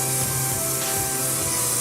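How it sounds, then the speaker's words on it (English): So Gorgeous Volumizing Freezing Spray hairspray hisses from a can in one continuous, close aerosol burst on curled hair, steady and loud with no voices. "Now is when I'm going to use the finishing hairspray."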